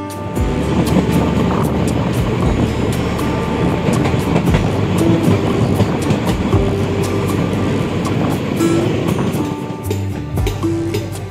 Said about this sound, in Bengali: নটা বেজে 13 মিনিট আমাদের ট্রেন কৃষ্ণনগর স্টেশন ঢুকছে।